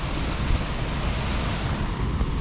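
A majestic waterfall in the Cairngorms, with pools around it, pours with a constant broadband rush of water, loud and close, with no break and no voices.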